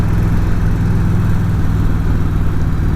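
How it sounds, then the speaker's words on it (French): A 1993 Harley-Davidson motorcycle with a 1340 engine runs with a loud, steady low rumble that holds without change throughout, close up and with no voices. "Un beau Harley 1993 avec un moteur 1340."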